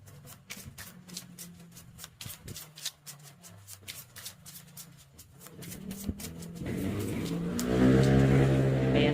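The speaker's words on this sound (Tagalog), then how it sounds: "pasensya na po sa ingay ng mga sasakyan" Roadside traffic with cars passing and engines revving, starting as a moderate rumble with clicking ticks and swelling into a loud, close vehicle roar toward the end.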